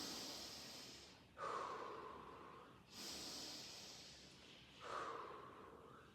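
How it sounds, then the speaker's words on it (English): Three slow, deep breaths taken while leaning forward in a tripod position, each a long airy inhale or exhale followed by a brief pause, close and quiet. "So we take a nice few deep breaths here."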